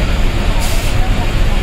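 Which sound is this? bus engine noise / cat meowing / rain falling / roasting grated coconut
bus engine noise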